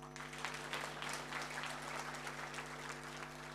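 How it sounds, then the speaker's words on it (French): Faint, distant applause from a crowd, a steady patter of clapping over a low electrical hum. "Applaudissez pour Internet."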